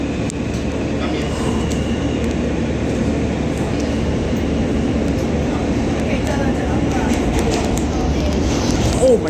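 A New York subway R train rumbles at a Queens station, a loud, steady low roar with rattling and squealing overtones throughout, while people talk nearby.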